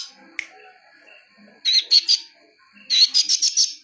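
A caged songbird trained in mimicry produces odd sounds: a thin sustained tone with a sharp chip, then two loud bursts of rapid, rasping chirps and squawks, close by with no talking.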